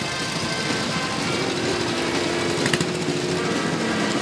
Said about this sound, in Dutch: motoren van voor 78 die meedoen aan deze tocht